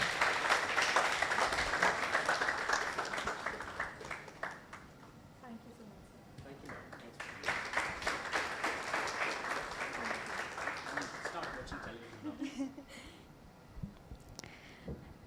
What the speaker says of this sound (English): Louder round of applause, guys.